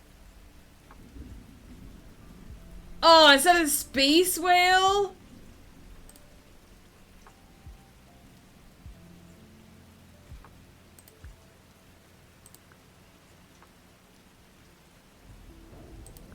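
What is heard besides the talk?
thunderstorm with rain in a video game world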